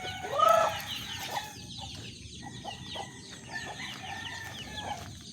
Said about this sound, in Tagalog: Ayan na po ang ating mga alagang manok.